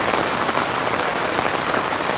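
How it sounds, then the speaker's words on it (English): Heavy rain pours down outdoors, a dense, loud, unbroken hiss and patter of drops striking surfaces with no break and no voices. "It's just raining."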